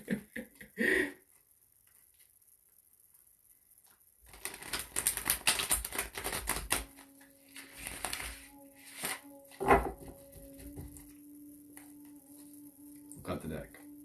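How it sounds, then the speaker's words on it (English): Tarot deck shuffled by hand: a long dense burst of riffling, flicking card noise, then scattered softer card handling and taps, with a steady tone and faint talk in the background. "We'll shuffle again because that one was not the best."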